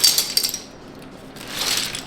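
Loose plastic keycaps from an EpoMaker TH80 keyboard clatter and click as they are shuffled by hand, a few close, light taps at the start and a softer rustle near the end.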